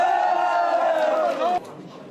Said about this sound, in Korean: 선거 사무실 곳곳에서는 환호가 터져나왔습니다